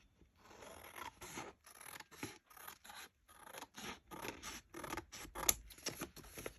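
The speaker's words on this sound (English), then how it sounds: "Now I'm just going around the envelope and cutting it out." Scissors snip around a junk mail envelope in a steady run of short, close, crisp cuts with brief pauses between strokes, paper rustling faintly.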